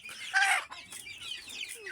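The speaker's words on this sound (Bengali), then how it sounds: "দেখুন আমাদের এই দেশি মুরগিটা এর বাচ্চা আছে" A native desi hen clucks near her chicks, with a short burst of clucking followed by softer calls and thin, high chick peeps at the end, heard close with no talking.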